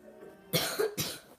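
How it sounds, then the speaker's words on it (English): Two quick, rough coughs close to the microphone, the first followed by a brief throaty rasp, over a quiet background. "Cough, cough."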